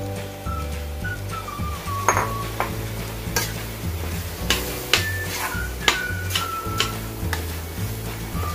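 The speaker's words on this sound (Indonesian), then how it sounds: "Kita aduk rata sebentar." Spoon stirring tomatoes into a cooked spice mixture in a pan with the heat off, a steady run of light scraping strokes and clinks against the pan over a faint sizzle, close and clear.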